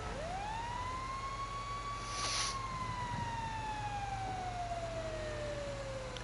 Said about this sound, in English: I got the siren on.